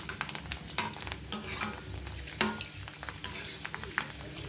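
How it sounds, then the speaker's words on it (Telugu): Pani puris deep-frying in hot oil over a medium flame, pressed down as they puff, give a steady close sizzle with scattered bubbling crackles and brief spatters, no talking. "ఇలా ఒత్తుకుంటూ వీటిని ఇలా ఫ్రై చేయండి"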